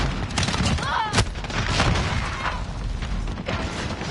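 Steady, dense gunfire from a Call of Duty Modern Warfare hardpoint match, with overlapping shots and booms running continuously under in-game voices.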